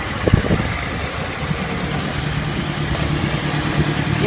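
A tractor's diesel engine idles steadily nearby during road patching, a low continuous rumble with a few faint knocks near the start.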